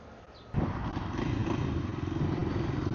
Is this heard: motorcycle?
yes